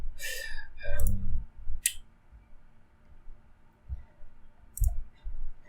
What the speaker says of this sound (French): On peut venir double-cliquer ensuite sur Factory.io